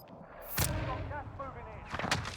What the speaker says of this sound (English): precision airstrike.